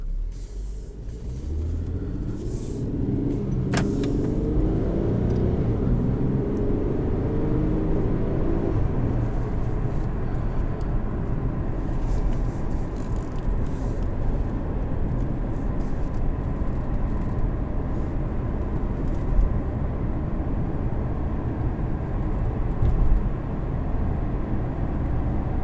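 A 2015 Infiniti Q70L with a 3.7 liter V6 and 7-speed automatic runs steadily, giving a loud, continuous low engine rumble with rising tone early on and faint road noise, no voices.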